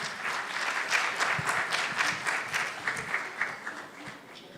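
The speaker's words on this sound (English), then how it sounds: "Let's give another round of applause for Kotone-san." A conference audience at a youth event in Ghana gives a steady round of applause, dense clapping that swells and then slowly fades over a few seconds.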